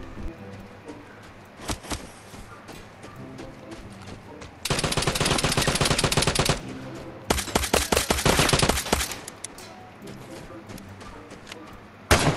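Gunfire rings out in Vigor: scattered single shots, then two long rapid automatic bursts close up, with players talking in between.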